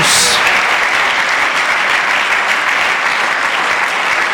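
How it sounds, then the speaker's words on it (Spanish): A church congregation bursts into loud, dense applause during a Sunday school sermon, sustained clapping filling the whole stretch. "Denle un aplauso bien fuerte al nombre del Señor Jesús"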